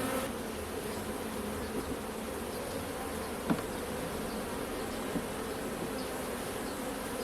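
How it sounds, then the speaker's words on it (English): Agitated honeybees buzz in a dense, continuous drone during a hive inspection, a steady swarm sound close by with a couple of faint knocks and no voices. "the bees were really getting agitated"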